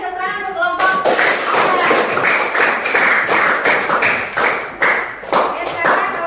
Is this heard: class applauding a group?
yes